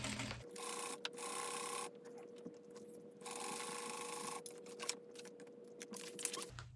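A sewing machine back stitches an interior seam in waterproof canvas for a bag, alternating short whirring bursts of stitching with pauses and clicks of handling, quiet and close.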